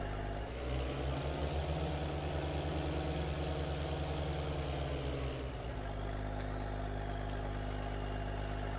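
A tractor engine in Farming Simulator 22 idles with a steady low drone and throb, shifting pitch briefly midway before settling back to a constant hum, no speech.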